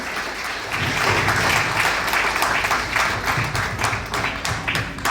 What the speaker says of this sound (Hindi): उनको तालियों के साथ में यहाँ तक स्वागत करो